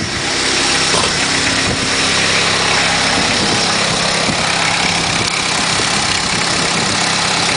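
A van engine fitted with an HHO system idles steadily and close, a loud, constant mechanical hum with a low rumble and no change in speed throughout.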